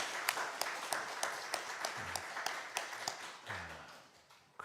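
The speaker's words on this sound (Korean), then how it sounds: "하나님께 영광의 박수 올려드립니다" A church congregation at an Easter service claps in slow, distinct, irregular beats. The sound is fairly faint, with a few voices murmuring toward the end.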